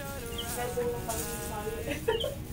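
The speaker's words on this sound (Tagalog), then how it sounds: "Balikan natin yung manok" A chicken clucking softly in a rural yard, a few short broken calls over a steady background of birds and faint talking voices.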